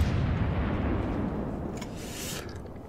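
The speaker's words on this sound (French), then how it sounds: "J'adore par contre le son des canons, il change par rapport à celui du Duguay et du Friant." Emile Bertin cruiser guns firing in World of Warships: a heavy, booming artillery blast that rolls and slowly decays, with a faint crackle near the end and no talk.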